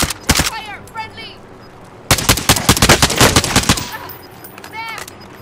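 Gunfire in Call of Duty Warzone on Rebirth Island: sharp single shots, then a dense rapid burst of automatic fire and a few later cracks, close and loud, with brief voices in between.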